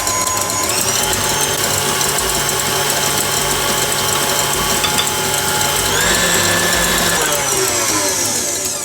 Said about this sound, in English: Now we're going to sprinkle in some of our caster sugar and keep beating it until it's completely dissolved, adding more as we go.